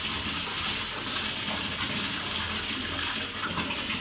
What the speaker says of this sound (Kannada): ಇದು ಬಿಸಿ ನೀರು